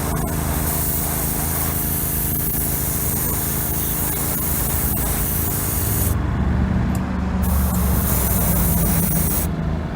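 A continuous, loud hiss of spray paint lays a wet coat onto a Hot Wheels car, running steadily for several seconds with brief pauses near the end.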